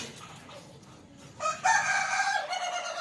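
A rooster crows loudly and close by, a single drawn-out call rising after a short quiet start, with faint clucking beforehand.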